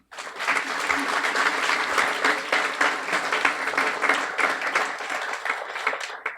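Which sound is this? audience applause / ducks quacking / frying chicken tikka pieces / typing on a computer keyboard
audience applause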